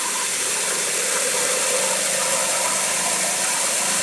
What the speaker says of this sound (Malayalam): ഇപ്പോൾ ഒരു 40 മീറ്റർ ഹെഡിലാണ് ആ മോട്ടോർ വർക്ക് ചെയ്യണത്